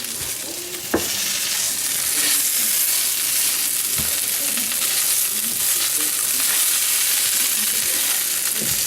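Leftover baked potatoes and eggs frying in a pan, a steady close sizzle and crackle throughout with a few sharp spatula scrapes and knocks as the mixture is stirred.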